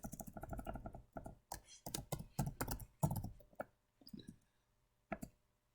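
Quick bursts of keystrokes clatter on a computer keyboard, close and fairly quiet, falling into irregular clusters with short pauses, then a couple of isolated taps near the end.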